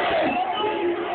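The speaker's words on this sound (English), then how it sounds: "Crowds chanting, "We want change," surrounded the opposition candidate Michael Sata" Crowd of opposition supporters in Zambia chanting "We want change" during national elections, a dense, steady roar of many voices close by, bellowing and yelling without pause.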